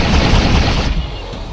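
Ship weapons firing in the space game X4: Foundations, making a dense, loud burst of blasts that fades within about a second and a half.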